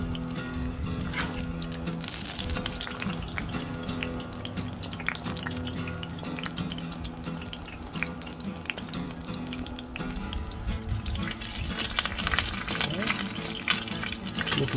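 A Pillsbury pizza dough calzone fries on a Blackstone griddle, giving a steady close sizzle and crackle throughout, with someone talking over it.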